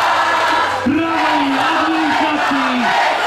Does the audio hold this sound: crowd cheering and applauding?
yes